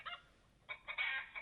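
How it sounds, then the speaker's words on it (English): Chickens clucking faintly in the background in a brief, quiet run of short calls with no talk over them. "Is that chickens in the background"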